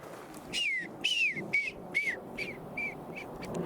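About six whistles in a forest, each a short descending high-pitched tone, spaced roughly half a second apart and growing fainter over quiet background hiss.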